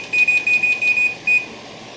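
A kitchen timer being set during tomato-sauce canning gives a string of quick, evenly spaced electronic beeps, then one more after a short pause, clear and close against faint background hiss.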